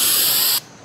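Multicolor paint sprays from a spray can onto an RV countertop, a steady loud hiss that cuts off abruptly after about half a second and leaves quiet room tone.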